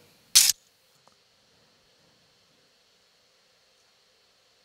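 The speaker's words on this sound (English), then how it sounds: "So this is the high end of the cutlery." A high-end cutlery layer for sound design: one sharp, bright metallic clink close up, then near silence with a tiny tick and another short clink at the very end.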